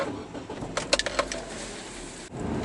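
A 2007 Hyundai Tucson SUV with a 2.0-litre 16-valve engine starts up: a quick jingle of keys and clicks, then a low, close engine rumble that settles into an idle.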